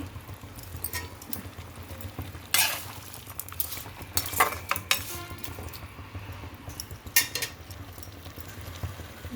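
Green chillies and salt cooking in a pan for coriander chutney, with a steady low sizzle under scattered spoon stirs and metal scrapes, several sharper clinks standing out; no one speaks.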